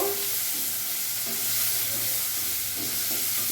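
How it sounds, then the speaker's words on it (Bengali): Small diced potatoes frying in a pan: a loud, continuous sizzle and hiss close up, broken by soft, muffled scraping stirs throughout. "আলুটা দিয়ে আমি ভালো করে নাড়াচাড়া করে নেব"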